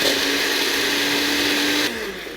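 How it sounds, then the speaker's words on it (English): A kitchen blender whirs loudly as it blends frozen bananas, a dense steady motor roar that drops in pitch and volume near the end as it slows, with no voices. "I'm going to take my frozen bananas and I'm going to put them in my blender, put the lid on"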